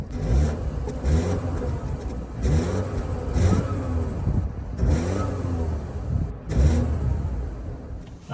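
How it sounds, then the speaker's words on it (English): A 2023 BMW 228i Gran Coupe's 2-liter four-cylinder engine is revved while stationary, rising and falling through several loud rev blips in a steady rhythm, heard up close without any talking. "Ah yes, the sound of a 2-liter 4-cylinder."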